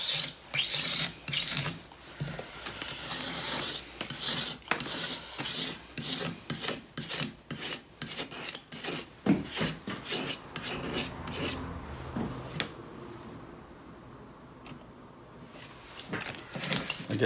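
Fine 1200-grit sandpaper rubbed back and forth on a Porsche 928 engine part near the fire ring, a steady run of close raspy strokes that thin out into quieter scraping toward the end.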